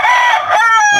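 A single loud, close rooster crow rising and falling in one drawn-out call, from gamefowl offered for sale, with no other sounds over it.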